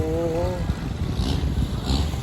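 A Thai long-tail boat engine drones steadily over water and wind noise near Koh Lipe, with a rising whine at the start.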